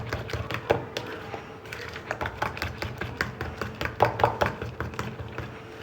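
Eggs are whisked with spices in a bowl for a vegetable omelette, giving quick, irregular tapping and clicking strokes that run steadily at close range with no talking.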